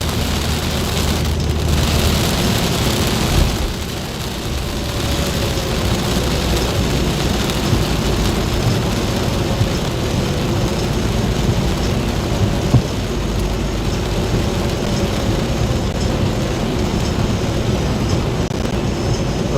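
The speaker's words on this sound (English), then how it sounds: "What you call a Queensland thunderstorm." Heavy Queensland thunderstorm heard from inside a moving car: dense, steady rain drums loudly over a low rumble of thunder and road noise for the whole stretch, with no talking.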